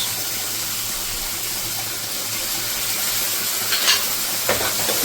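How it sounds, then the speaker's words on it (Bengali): Soya chunk chilli fry is stirred in a pan with tomato sauce and soy sauce, giving a steady close sizzle and hiss, with a couple of brief scraping stirs near the end. "আবারও ঠিক এইভাবে মিশিয়ে নিতে হবে"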